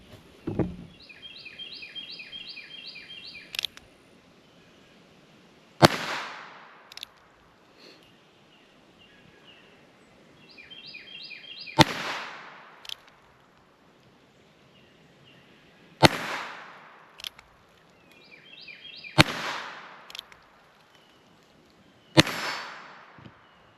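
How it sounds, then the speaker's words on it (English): CCI 22 Short 29-grain full metal jacket rounds fired from a rifle in a five-shot string: sharp cracks spaced a few seconds apart, loud and near, with quiet gaps and brief chirpy electronic beeps between shots. "this is our CCI 22 short, full metal jacket, 29 grain, and we're gonna do a 5-shot group"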